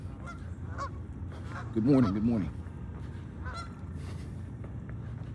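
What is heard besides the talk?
ducks honking outdoors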